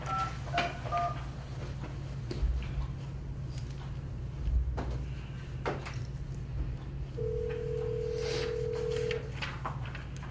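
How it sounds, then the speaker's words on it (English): A conference speakerphone at a town meeting dialing out, a series of short dialing tones followed by a longer steady tone, heard against faint room noise and quiet background voices. "Do we have to dial 9 first?"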